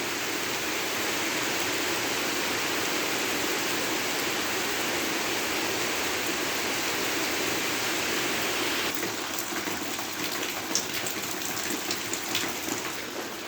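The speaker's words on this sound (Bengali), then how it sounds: "বৃষ্টি নামতেই থাকে নামতেই থাকে।" Heavy rain pours down in a steady, dense hiss that holds constant throughout, loud and unbroken, with no voices.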